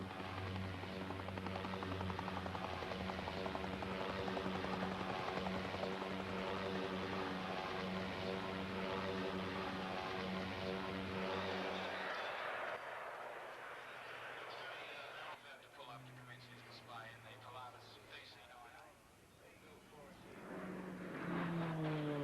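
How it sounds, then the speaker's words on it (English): Propeller drone of an Australian-built GAF Nomad twin-engine utility aircraft at an air show, a steady droning engine tone that holds loud and then thins out as the plane passes, with a voice talking over it. "This is a plane right out of Australian folklore, the Nomad, designed and built in Australia."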